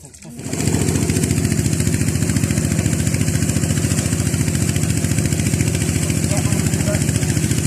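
A small engine-driven water pump runs steadily while a natural fish pond is drained, a loud, close, continuous mid-pitched chugging hum that starts up within the first second and holds without a break.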